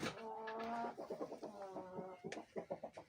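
A fighting rooster, blind in its right eye and weighing 4.7 kg, clucks close by in a rapid string of short calls and longer tonal notes, with no voices over it.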